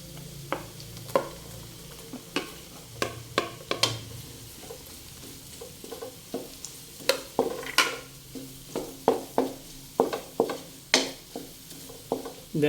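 Onions sizzling as they fry in butter in a pan for a mixed seafood dish, with repeated clinks and scrapes of stirring over a steady low sizzle.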